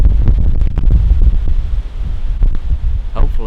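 Gusty wind buffets the microphone at a tree stand during a South Dakota bow hunt, loud low-pitched rumbling and thumping bursts that rise and fall without pause.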